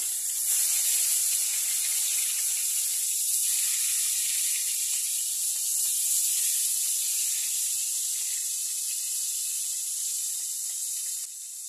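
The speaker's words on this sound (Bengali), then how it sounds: "এখন মাছগুলো সুন্দর করে লাল লাল করে ভেজে নেব।" Fish pieces coated in turmeric, salt and chilli fry in hot oil, making a loud, steady, hissing sizzle that carries on without a break from start to finish.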